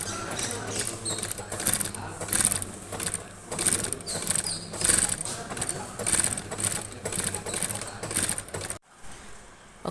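A sewing machine stitches the upper of a wedge sandal in a rapid, clattering mechanical rhythm that comes in bursts of varying length, then stops abruptly near the end and leaves a quiet room.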